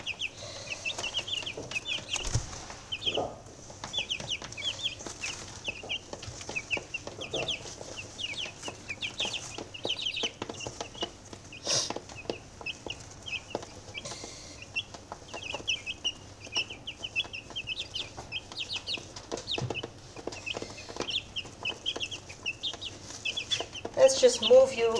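Young chickens with newly coloured feathers cluck and chirp softly in a pen, scattered high calls over low background noise, with a voice speaking briefly.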